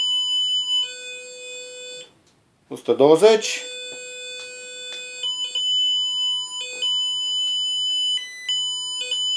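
An Arduino buzzer driven by an ultrasonic sensor emits steady electronic tones that shift pitch in steps as something approaches, with a brief spoken word cutting in near the start and a few short interruptions.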